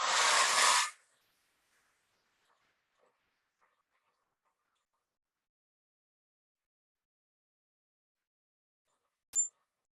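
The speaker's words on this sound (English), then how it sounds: "I'm going to speed this up with my hairdryer." A hairdryer blows in a brief, loud, close hiss lasting about a second before cutting off into near silence, with a single sharp click near the end.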